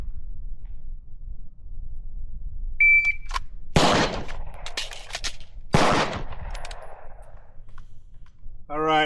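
Handgun shots on a range during a magazine-change reload drill, a shot timer's electronic beep followed by two sharp, loud gunshots about two seconds apart, with a quiet gap between them for the reload.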